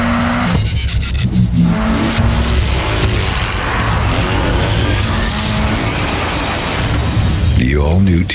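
A 2007 Suzuki XL7 SUV revs and roars at close range through a busy commercial mix, with tyre-squeal and rising engine pitch surges over loud music and effects, and a voice talking throughout.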